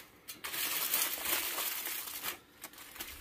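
Aluminium foil crinkles and crumples as it is folded and sealed around seasoned ribs, a close, quiet, continuous rustling with a few sharper crackles.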